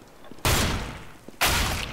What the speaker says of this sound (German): du hast drei Schüsse gebraucht